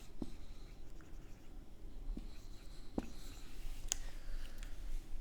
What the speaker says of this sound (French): je vais l'écrire en rouge parce que c'est stylé